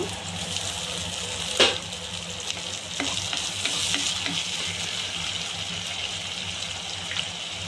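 Drumstick pieces tumble into a pan of frying onions with rock salt, raising a steady sizzle with a sharp clatter near the start and scattered spatula scrapes afterward; no one speaks.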